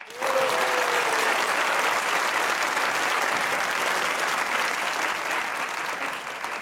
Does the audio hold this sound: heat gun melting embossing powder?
no